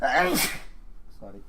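A single sharp, loud human sneeze bursts out at the start, followed by a brief apology spoken by a man during a stock market livestream.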